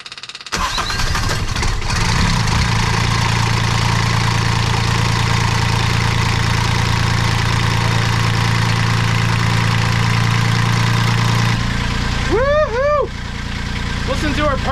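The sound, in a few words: sailboat engine starting up and idling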